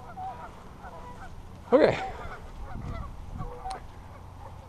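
A single loud goose honk rings out near the middle, with softer honks and water-bird calls around it and a brief spoken word.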